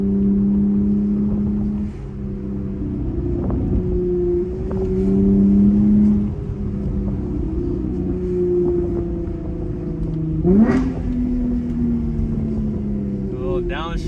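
Loud modified Camaro V8 rumbling steadily from inside the car, with a sharp rev rise during a downshift near the end, and someone talking over the engine noise.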